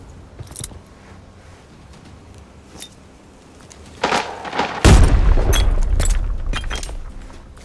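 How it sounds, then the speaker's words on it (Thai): A grenade goes off in the shooter game Arena Breakout, a heavy close boom with a long rumbling tail, preceded by scattered quiet clicks, thuds and a louder impact. "ปาระเบิดพลาดไปหนึ่งลูกครับ เกิดโดนตัวเองนะ"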